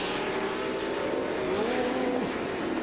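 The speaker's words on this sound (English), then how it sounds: "those 12-cylinder Ferraris working their way up through the field" Pack of historic race cars, including 12-cylinder Ferrari 512s, roaring by on the first lap at the 2004 Monterey Historic races, a dense continuous engine howl with one car's note swooping as it passes.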